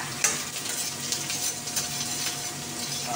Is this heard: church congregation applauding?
no